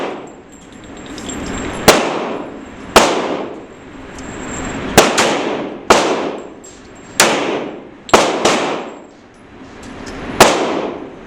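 Handgun shots at an outdoor gun range, about ten loud sharp reports in an irregular string, each followed by a ringing decay, with no talking.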